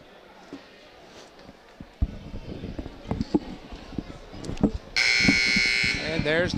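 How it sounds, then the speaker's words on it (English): A loud, sustained electronic buzzer sounds in a gym during a high school basketball game, blaring for the last couple of seconds after crowd chatter, footsteps and a commentator's voice. "There's the buzzer"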